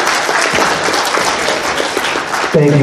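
Audience at a furry convention variety show applauding steadily, a dense wash of many hands clapping that holds loud throughout, with a brief burst of voices or music rising near the end.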